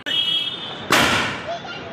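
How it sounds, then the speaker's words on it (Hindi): During Diwali street celebrations, a firecracker bomb goes off with one sharp, loud bang partway through, its crackling tail decaying over the next second, while voices talk throughout. "सही में यही था, बम था ये पूरा, रॉकेट तो लगा ही नहीं"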